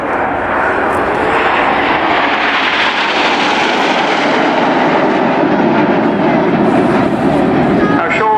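A Red Arrows jet flies a display manoeuvre at an air show, a loud continuous roaring engine rush that swells and persists throughout, heard without speech.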